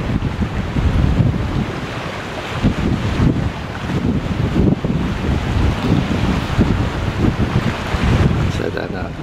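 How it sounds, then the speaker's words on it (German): A pilot boat draws up alongside a Mein Schiff cruise ship off Limassol around sunrise, its approach buried in a steady, loud roar of wind buffeting the microphone and sea surf, with no breaks throughout. "Das Lotsenboot hat uns erreicht. Fährt jetzt auf die Steuerbordseite."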